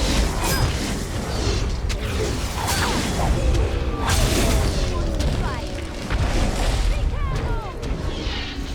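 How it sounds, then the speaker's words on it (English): A firebomb exploding in the fantasy game Dragon Age: Origins, heavy booming bursts and whooshing fire amid busy combat effects, with a voice talking over parts of it. "Let me just use a good old firebomb."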